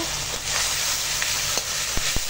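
Tomato and ground spice paste fries in a pan with a dense, steady sizzle close by, broken by a few soft stirring knocks.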